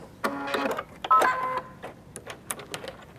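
A sewing machine makes a back stitch in short stop-start motor bursts with clicks and whirs, close and moderately loud, with a few light taps of handling after.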